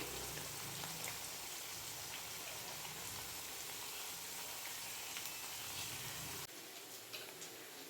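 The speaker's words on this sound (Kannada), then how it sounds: "ಚೆನ್ನಾಗೆ ಡೀಪ್ ಫ್ರೈ ಆಗಲಿ" Mixed vegetable vadas with onion and potato deep frying in hot oil, a steady dense crackling sizzle that runs close and loud before dropping slightly lower near the end.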